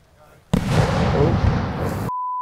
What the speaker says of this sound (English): That's one hell of a shotgun start. Fireworks start.